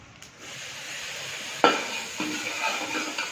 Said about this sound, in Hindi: चलें अब हम इसके अंदर डालेंगे अपने टमाटर